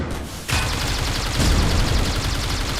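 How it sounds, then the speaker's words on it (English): Rapid bursts of gunfire crackle in a tactical shooter game match, dense overlapping shots that start abruptly after a quiet moment and keep up as a loud, continuous fusillade. "A lot of pre-fires coming in."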